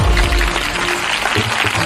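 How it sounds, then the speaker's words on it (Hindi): A church congregation at a Bible study sermon claps together for Jesus, a dense, steady wash of many hands beating close and loud for about two seconds with no talking over it. "सब जन यीशु मसीह के लिए ताली बजाइए"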